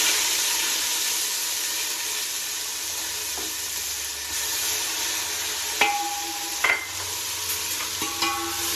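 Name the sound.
garlic tempering in hot oil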